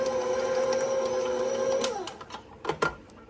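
An electric mixer works oatmeal cookie dough made with fresh-milled wheat flour. Its steady motor whine holds, then winds down and stops partway through, followed by a few dull knocks and clunks.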